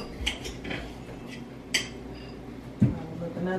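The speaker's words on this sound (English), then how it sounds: "Another dish for me to wash." Dishes being handled, with a few separate clinks and knocks spaced over a few seconds against faint room noise, and a louder clatter near the end.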